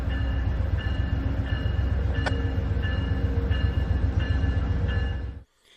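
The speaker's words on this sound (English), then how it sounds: "we find westbound Amtrak 51 coming in for its station stop" Westbound Amtrak 51 passenger train rolls into the White Sulphur Springs station stop, a loud, close, continuous rumble with rhythmic wheel clicks over rail joints before cutting off abruptly near the end.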